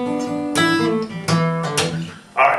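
Guitar chords strummed in short bursts with low bass notes underneath, a loose riff of a few accented hits, close and fairly loud.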